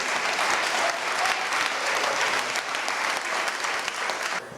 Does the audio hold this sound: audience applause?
yes